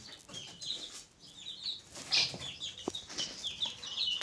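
Young chicks in a poultry coop give high, thin peeping calls in quick overlapping bursts, with a few louder cheeps and soft rustling of birds moving close by.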